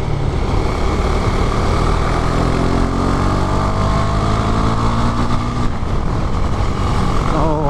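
A Husqvarna 401 Svartpilen motorcycle engine drones loud and continuous while riding, lugging low in too high a gear with steady rising harmonics, close and constant throughout.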